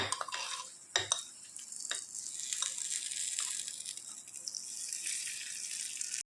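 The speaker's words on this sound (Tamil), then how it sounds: "இப்போ தாளிப்பு ரெடி ஆயிடுச்சு இப்போ சட்னியில் சேர்த்துக்கலாம்" Dried red chillies crackle and sizzle in hot oil for a tempering meant for urad dal chutney, a steady close frying hiss broken by a few sharp clinks of a spoon against the pan.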